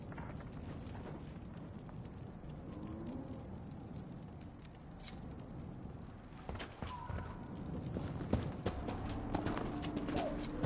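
Horse hooves clip-clop in the video game Dragon Age: Inquisition, a quiet, rhythmic run of soft hoofbeats under ambient game sound, with a few louder thuds toward the end.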